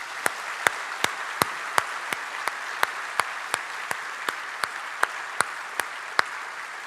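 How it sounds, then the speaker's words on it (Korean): A church congregation at a Sunday evening service applauds. Clear, sharp claps keep a steady beat of about three per second over a bed of scattered clapping, heard at a moderate level from within the hall, with no voices. "박수 한번 드리면 어떻겠습니까?"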